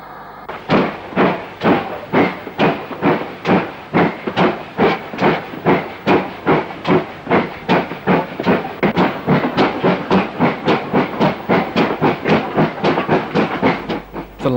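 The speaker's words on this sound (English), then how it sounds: "7826 Longworth Manor will take us the final 14 miles to Aberystwyth." Steam locomotive 7826 Longworth Manor hauls a train toward Aberystwyth, with loud, close exhaust chuffs beating in a fast, even rhythm and no pause for the whole stretch.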